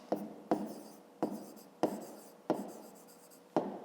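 A pen writes on paper during a fifth-grade math exercise, with close, crisp strokes repeating about every half second to second, each a sharp scratch that trails off.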